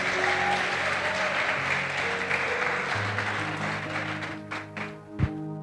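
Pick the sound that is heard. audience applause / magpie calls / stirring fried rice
audience applause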